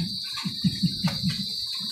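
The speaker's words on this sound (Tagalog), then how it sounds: "At tumutunog na nga po ang kuliglig." Crickets chirp in a steady rhythmic pulse over a constant high insect drone, with no voices.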